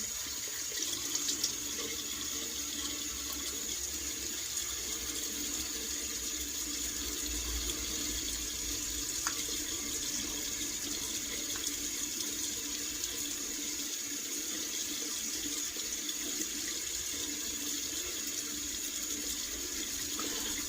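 Water running steadily from a tap, a continuous moderate splashing stream at close range with no voices.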